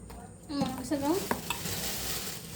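An egg yolk mixture for jelly cake is stirred in a bowl with a soft, continuous scraping swish, and a brief tonal voice rises over it midway.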